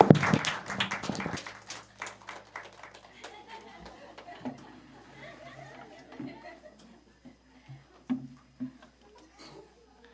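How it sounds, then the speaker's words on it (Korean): A church congregation at Sunday worship gives a short burst of applause that fades within a couple of seconds into quiet murmuring and scattered taps, with talk continuing softly. "축하의 박수를 크게 해주시면 좋겠습니다"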